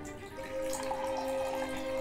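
Water pours in a steady, quiet stream, a soft continuous trickle that holds evenly from start to finish with no voices.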